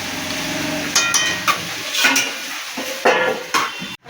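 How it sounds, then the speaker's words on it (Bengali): A lid comes off a pot of katla fish head and banana-flower ghonto, giving several close metallic clanks and scrapes over a steady background sizzle, with no talking. "ঢাকাটা খুলে দিই, এটা কতটা হবে।"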